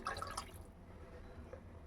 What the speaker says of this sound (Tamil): இப்போ வந்துட்டு நம்ம வந்து புளி தண்ணி ஆட் பண்ணிக்கலாம்